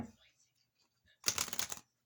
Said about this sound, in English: I'm going to give this a good shuffle, and then we'll get a card and close this off.